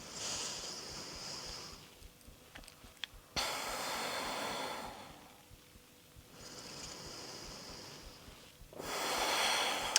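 Slow, deep breathing in a quiet room during a still pause in an intermediate vinyasa yoga flow, with long airy inhales and exhales alternating in a steady rhythm, close and soft, with no talking.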